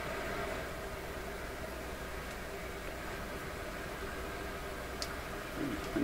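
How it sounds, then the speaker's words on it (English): Steady, even static hiss from a McIntosh MR71 FM radio receiver fills the whole stretch, with no voices. "Okay, so that's the radio. We're listening to that hiss."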